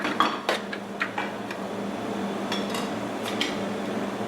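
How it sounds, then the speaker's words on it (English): Diced potatoes and carrots tumble into a cooking pot for a Nigerian meat pie filling, giving a few sharp clattering knocks and rattles near the start, then softer scattered thuds over a steady low background hum. "We add in 1 kilogram of diced potatoes, 400 grams of diced carrots."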